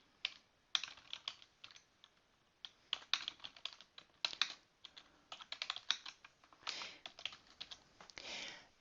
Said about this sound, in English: simply type their name as you are starting your conversation